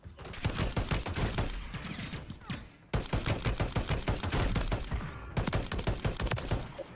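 Rapid bursts of automatic gunfire from a shooter video game, loud and dense, in three sustained volleys separated by short breaks.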